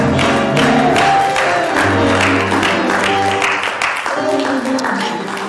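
A church congregation claps hands during a sermon, a steady wash of applause mixed with organ or music tones and crowd voices, continuing for several seconds and slowly easing.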